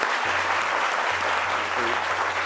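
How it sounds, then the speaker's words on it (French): An audience at a cultural program applauds in a steady, even wash of clapping throughout, with a faint low hum underneath. "J'aimerais qu'on applaudisse."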